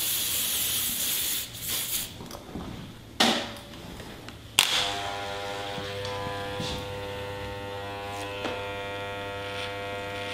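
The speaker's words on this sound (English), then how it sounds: "Spray with some ProLine." In a barbershop during a skin fade cut, a bottle of ProLine hair product gives two short, sharp hissing sprays over a steady low electric hum, with quieter rustling between them.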